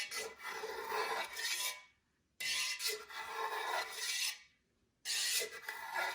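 A spatula drags through soft feta cheese curds in a pot in three long, rasping strokes separated by short silences, close and steady, with no voices.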